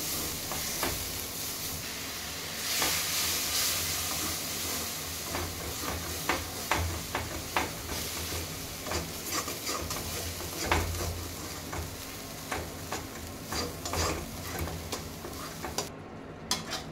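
Spices with turmeric and a splash of water are stirred in a pan for palak paneer, giving a steady low sizzle with repeated scraping and clinking strokes of a spoon, close and continuous throughout.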